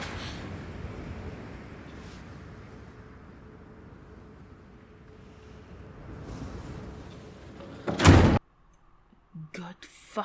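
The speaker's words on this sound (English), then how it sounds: "As she opens the door to leave" A door opens as a woman leaves a house after running downstairs, heard as one loud, close thud about two-thirds of the way in, followed by a few short knocks over a low, hushed background.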